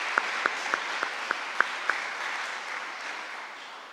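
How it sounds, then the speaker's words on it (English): Audience applause at a press conference dedicating a basketball court, a moderate spread of clapping with a few distinct nearby claps standing out at first, then a thinner patter tapering off. "If we could give them both a round of applause"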